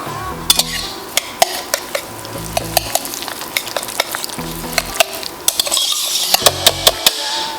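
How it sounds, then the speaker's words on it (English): Keto cinnamon roll cake batter with baking mix being stirred in a bowl, a utensil knocking and clinking against the sides in a steady, repeated rhythm, close up with no talking. "now we're going to mix this up until combined"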